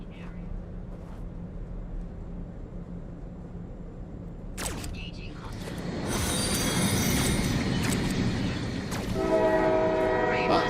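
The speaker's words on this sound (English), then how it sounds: "Thank you for the train horn." After quiet clicks and rustling, a loud train horn sounds and holds, its bright blaring tones continuing to the end.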